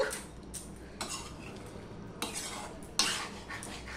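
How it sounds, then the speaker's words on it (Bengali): Sugar being stirred into a pan of drumstick curry, a spoon scraping and clanking against the pan in a few distinct strokes over a faint sizzle, close and fairly quiet. "দিয়ে সম্পূর্ণটা আমি মিশিয়ে নেব চিনিটা গলা পর্যন্ত"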